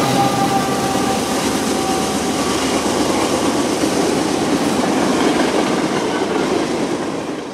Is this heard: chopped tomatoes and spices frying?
no